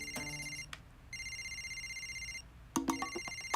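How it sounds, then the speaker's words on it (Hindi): Cartoon telephone ringtone in a funny animated episode: bright electronic ring bursts that stop, resume as a long steady tone, then break into a busier trill, loud and close with no talking. "ये तो मेरे पार्टनर KN का फोन है"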